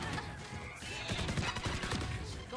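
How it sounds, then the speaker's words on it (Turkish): A Valorant competitive match with Breach in play and a grenade tossed by a teammate: a dense, loud wash of game combat noise with a run of sharp, blasting bursts through the middle and end. "Abi buraya niye bomba atıyorsun reis?"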